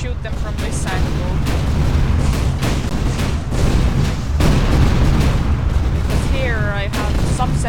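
Rapid booming gunfire and explosions in the Tower of Guns shooter game, dense overlapping blasts rolling on almost without pause, loud and close, with a voice heard over them.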